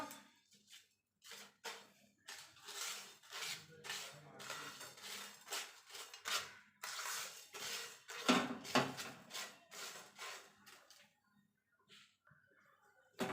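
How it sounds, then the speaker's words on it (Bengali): Spices, dried red chillies and nutmeg dry-roasted in a metal pan, heard as irregular clattering bursts of a spatula scraping and knocking against the pan, close and bright, separated by brief quiet gaps. "এবার এটাকে আমি ভালো করে ভেজে নেব।"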